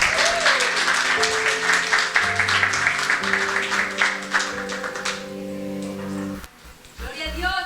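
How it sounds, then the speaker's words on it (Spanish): A church congregation applauds at a Sunday service to welcome pastor Luis Gerardo Aquino, dense clapping for about five seconds over sustained organ-like keyboard tones, then fading as the music holds and a few voices call out. "quiero pedirles que recibamos con un aplauso de honra al pastor Luis Gerardo Aquino"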